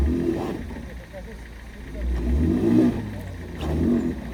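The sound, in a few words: campervan engine revving while trying to get unstuck from snow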